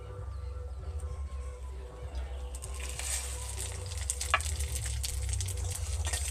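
Bay leaf, whole cumin and dried chillies dropped into hot oil for tempering: soft, steady crackling and hissing sizzle that grows busier partway through, close by over a constant low hum.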